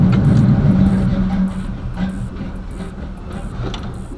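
A Chevy box car engine with a chopping cam idles close by, a loud low rumble with a lumpy, uneven lope that loudens at first and then settles into a steadier, slightly quieter idle.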